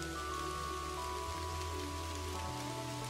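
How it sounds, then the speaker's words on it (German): Steady rain pours down in the point-and-click video game Kathy Rain, a dense continuous patter over a low hum of background music, with no voices. "das regnet ja immer mehr"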